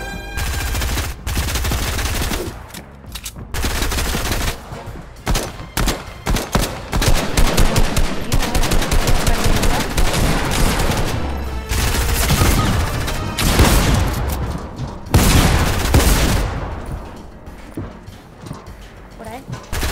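Rapid bursts of Fortnite gunfire crackle at short range, dense and loud, with overlapping volleys and sharp shots across the whole stretch and voices talking over the shooting.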